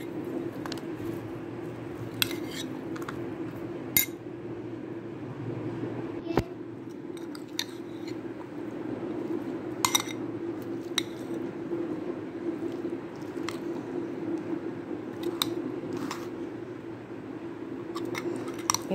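Chana chaat with chopped onion and green coriander being stirred together in a bowl, a steady wet squishing with soft scraping and occasional sharp clicks of the spoon against the bowl, close and continuous.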